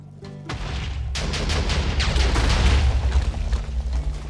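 TNT exploding in the game Seaopolis 2: a loud, sustained rumbling blast that builds over several seconds with crackling bursts layered through it.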